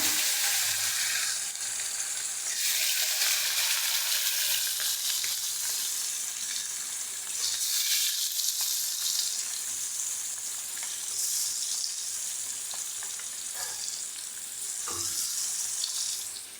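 Sardines (mathi meen) frying in hot oil in a pan for a crispy Tamil-style fish fry, a loud steady bright sizzle throughout with occasional pops and crackles, no talking.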